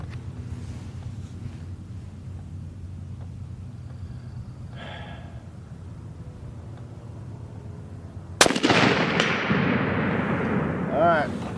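A single sharp report from a Sako 85L Grey Wolf bolt-action rifle in .30-06, fired outdoors, cracks out loud and close after a stretch of wind-buffeted quiet, then trails off in a fading rumble and echo.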